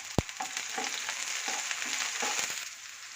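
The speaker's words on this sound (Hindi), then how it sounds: "ग्रीन चिली ऐड कर दी और साथ में मैं क्यूमिन सीड्स यानी कि ज़ीरा ऐड कर दूंगी।" Green chilli and cumin seeds sizzling in a hot pan, a steady close crackling fry with a sharp knock at the start and soft stirring scrapes throughout.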